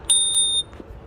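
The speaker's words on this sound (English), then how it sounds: "So this scooter comes with a bell feature." Bell on a Life+ electric scooter rung twice in quick succession, two bright close metallic dings with a clear ringing tail, heard alone in a quiet setting.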